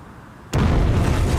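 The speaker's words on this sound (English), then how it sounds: "I was underneath the car when I heard a very loud explosion." A car bomb detonates in a shopping area in Omagh in 1998, an abrupt loud blast that cuts in after a quiet moment and turns into a sustained, rumbling, vibrating roar.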